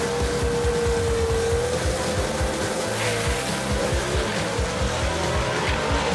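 Drag race at Kil-Kare Dragway with a 1962 Ford Falcon gasser running against a 1966 Chevy II: a continuous, loud engine roar fills the whole stretch, with a rising tone sweeping upward and tire squeal above a dense low rumble.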